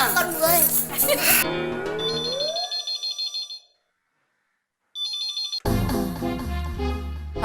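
A telephone rings in a domestic sitcom scene: two short bursts of rapid, pulsing electronic ringing separated by a brief silence, set between stretches of talk and music.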